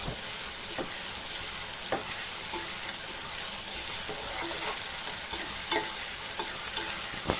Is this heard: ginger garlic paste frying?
yes